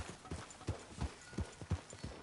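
Horse hooves clip-clop in Red Dead Redemption 2, a steady walking rhythm of about seven soft, close thuds.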